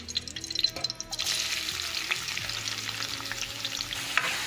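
Sliced onion frying in hot oil for chicken biryani, a loud close sizzle that swells after a second as a spoon stirs and scrapes the pan, continuing steadily to the end.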